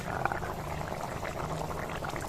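Egg and potato curry bubbling steadily in a pan on the stove, a dense, continuous close simmer of small pops and thick burbling with no break.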